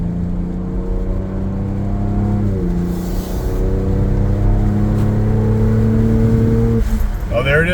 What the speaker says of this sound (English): that's a really hard shift into that 5th gear